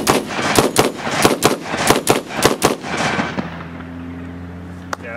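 A rapid string of about a dozen close, sharp gunshots from an Alex Pro Firearms gun at a 3-gun shooting range cracks in quick rhythm, then stops, leaving a low hum and one faint click.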